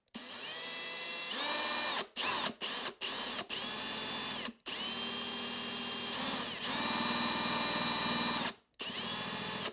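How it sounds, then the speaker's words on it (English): Power drill boring a jack hole through a wooden cigar box guitar body, whining loudly in several bursts with short pauses between, close and alone. "I just need to drill a hole for the jack."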